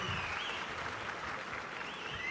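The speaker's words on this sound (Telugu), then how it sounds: "గట్టిగా చప్పట్లు కొట్టి అభినందించండి." A large audience at a public political rally claps loudly and steadily, a dense wash of applause sustained from start to finish with no break.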